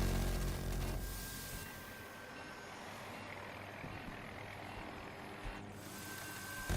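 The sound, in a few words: helicopter flying in Battlefield video game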